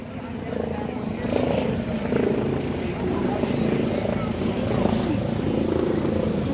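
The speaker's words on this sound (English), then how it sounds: "Got the chopper in the sky." A helicopter's steady low rotor drone fills the background above a street protest, constant and moderately loud, with someone talking over it.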